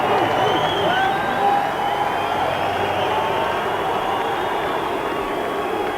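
A boxing crowd roars and cheers in a steady, dense wash of noise as Lennox Lewis makes his entrance before his home fans for his first professional fight in 1989.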